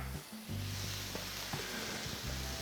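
Steak sizzling on a Ninja Sizzle indoor grill: a loud, close, continuous hiss and crackle that holds steady throughout, with no talk over it.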